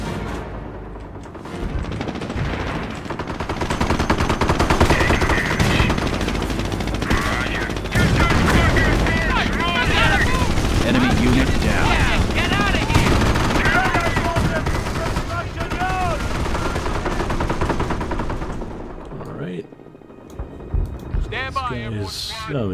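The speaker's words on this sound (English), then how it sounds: "Taking fire!" Sustained gunfire and machine-gun bursts rattle through a Company of Heroes battle, loud and continuous with occasional booms, while voices shout over the fighting before the shooting thins out near the end.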